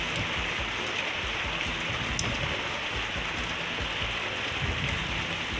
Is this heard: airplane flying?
no